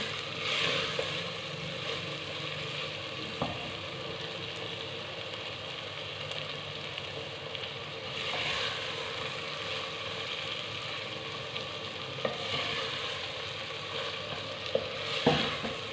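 Pumpkin and chana dal curry sizzles steadily in a frying pan while a spoon stirs it, giving a continuous close hiss with occasional scrapes and faint clicks.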